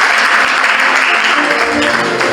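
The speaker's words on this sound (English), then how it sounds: "another round of applause" Audience applause at a Greater Westnile Students' Association handover and inauguration ceremony at KIU, a dense, steady wash of clapping that stays loud and continuous throughout.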